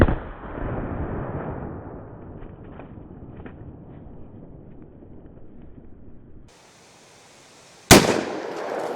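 A Colt Anaconda .44 Magnum revolver loaded with hot 225-grain rounds fires a single loud, sharp shot near the end, after a stretch of low outdoor rumble on a range.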